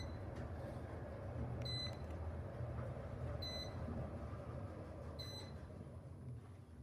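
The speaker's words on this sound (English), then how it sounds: "Listen to that beep." An Otis traction elevator in a new hotel sounds three short high beeps at a steady spacing, clear above a loud continuous low rumble of machinery and running water.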